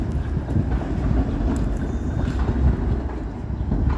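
Steady wind buffets the microphone outdoors in downtown Toronto, with a low, rumbling roar that continues unbroken throughout, with no voices.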